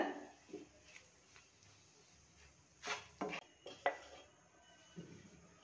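A ladoo mixture in a pan gets lentils stirred in, with quiet intermittent scraping and knocking of a spoon against the pan, a few louder clacks clustered in the middle.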